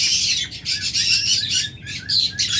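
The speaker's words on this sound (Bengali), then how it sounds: "গ্রিন অপালাইন পাখি অর্থাৎ গ্রিন অপালাইন জোড়া" A pair of green opaline budgerigars chirps steadily and close by, a busy run of bright twittering calls with brief pauses between bursts.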